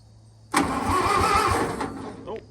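A 1922 International truck engine, recently reworked after leaking compression, cranks over in a loud sustained burst with rhythmic low chugging for about two seconds before fading, with no one speaking.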